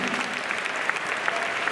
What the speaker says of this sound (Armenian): ծափահարենք Ռազմիկին։